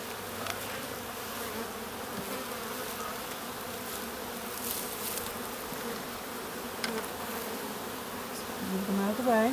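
A dense, steady buzz of many calm honey bees inside an open hive hums close by throughout, with no talking.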